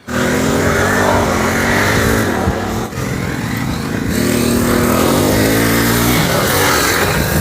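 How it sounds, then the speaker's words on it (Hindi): A 4 HP Chetak mini tractor engine runs loud and steady throughout, a continuous rough drone with a short dip near the middle, and no talk over it. "छोटे किसान का बड़ा ट्रैक्टर 4 HP का चेतक यहाँ पर लॉन्च कर दिया है"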